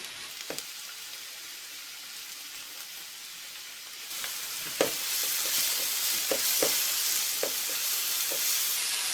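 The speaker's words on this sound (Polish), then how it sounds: "I teraz do cebuli wrzucam pieczarki" Mushrooms and onion sizzle continuously in a frying pan, the frying hiss swelling louder halfway through, with scattered clinks and scrapes of stirring.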